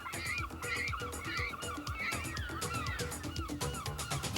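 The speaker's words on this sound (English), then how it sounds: "There are seafowl everywhere. Rookeries of pelicans and cormorants." A dense seabird colony of pelicans and cormorants calls continuously, with overlapping honking, gobbling and croaking cries from many birds, close and busy with no pauses.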